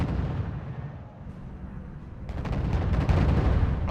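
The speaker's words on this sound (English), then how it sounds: "lots of tanks are going to be shooting at the same time because the line is so long" A long line of tanks fires together in a RUSE real-time strategy battle, heard as a dense, loud rumble of overlapping artillery booms that grows heavier and more crackling toward the end.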